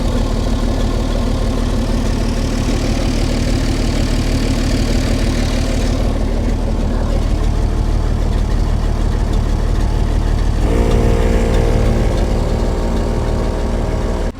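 A 60-year-old International 6x6 army truck engine runs steadily at idle out in the bush, a loud, close, continuous low rumble with a rough knocking texture that holds without pause.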